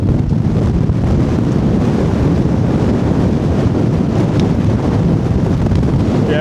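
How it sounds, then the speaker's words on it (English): Strong wind on a hilltop summit cairn within view of Pen y Fan buffets the microphone in a loud, continuous, low roar with gusty rumbling throughout, no voices heard. "It's pretty strong winds up here."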